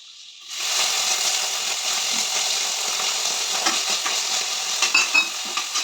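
Chopped onion lands in a wok of hot butter and oil and bursts into a loud, steady sizzle that hisses continuously, with a few light clinks of stirring toward the end and no talking.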